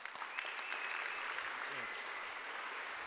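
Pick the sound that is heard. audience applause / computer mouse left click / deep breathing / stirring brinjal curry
audience applause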